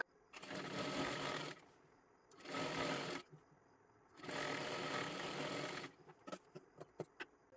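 A sewing machine stitching a girl's long one-piece dress runs in three steady bursts of whirring, separated by short pauses, then ends with a few quick, sharp clicks.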